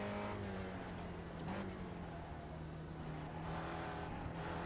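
Spec Racer Ford race car engine at Sebring in the iRacing simulator, a steady loud droning hum that holds level throughout with no talk.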